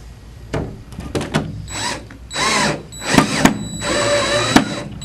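A power drill drives screws into a metal window awning during assembly, with several loud whirring bursts of varying length separated by short pauses and clicks, close up with no talking.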